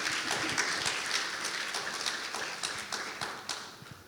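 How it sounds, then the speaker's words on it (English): Sustained audience applause at a literary festival session, a dense wash of many hands clapping with a few sharper individual claps standing out, moderately loud and steady without talk. "another big round of applause before we start for Sheena and Ira"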